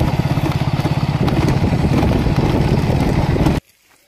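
Motorcycle engine running on the way to a farm field in a village, a close, loud rapid chugging putter with rattly clatter that holds steady for about three and a half seconds, then cuts off abruptly.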